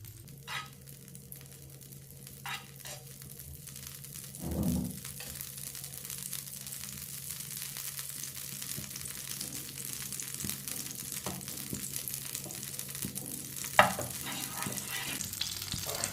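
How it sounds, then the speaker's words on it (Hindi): Desi ghee heating in a pan gives a steady, low sizzle with occasional stirring scrapes and a few brief clatters, moderately close and with no talk. "देसी घी को ना अच्छी तरह गर्म कर लेना है।"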